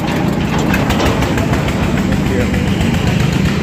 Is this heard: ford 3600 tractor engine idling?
yes